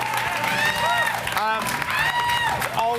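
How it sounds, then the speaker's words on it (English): Crowd clapping and cheering in a lively room, mixed with voices talking over it. "Yes, clap for Cliff. Clap for Cliff."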